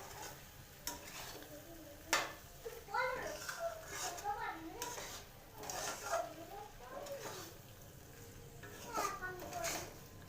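Mushrooms being stirred in a pan for a mushroom butter masala, a soft scraping and faint sizzle with a little water added, with a voice and chatter over it throughout.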